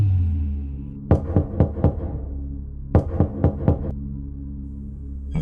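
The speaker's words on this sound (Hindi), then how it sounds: "कुछ देर बाद फिर दस्तक।" Knocking on a door in two separate bursts of four or five sharp raps, with a quiet pause between them and a low rumbling hum underneath.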